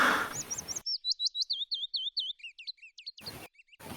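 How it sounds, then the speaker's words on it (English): A cartoon bird tweeting effect from a Strong Bad animation: a rapid run of bright, close chirps in quick succession, cut off abruptly at both ends by bursts of other sound. "every time I hear that bird tweeting noise"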